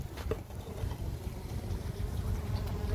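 Faint honey bees humming softly inside an uninsulated wintering hive in a low continuous drone with light rustling, heard close and quiet with no voices.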